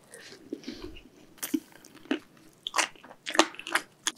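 Close-up crunchy bites and wet chewing on a spicy carbonara fire chicken wing from Mexicana, several crisp crunches in quick succession between softer mastication sounds.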